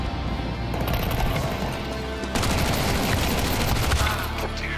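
Counter-Strike 2 match gunfire: dense, sustained bursts of automatic shots crackling over each other throughout, loud and close, with rapid rattling that barely pauses.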